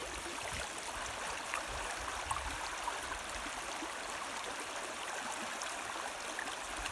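A low-water brook in winter flows steadily with soft, even gurgling and rushing, close and constant, with no voices.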